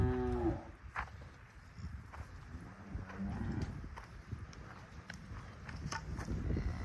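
Cows on a farm during weaning and ear tagging, with a couple of moos and animal movement and shuffling nearby under outdoor noise.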